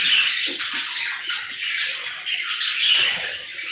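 A ten-month-old caged pet bird chirps and squawks at close range, its bright calls repeating in loose bursts over a steady hiss of background noise, with no talking.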